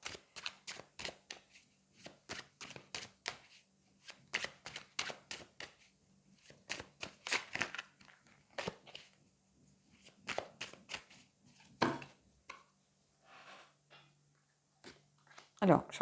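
Tarot cards being shuffled for a reading, a long run of quick, crisp riffling bursts and soft slaps in irregular clusters, close and fairly quiet, with a low steady hum underneath.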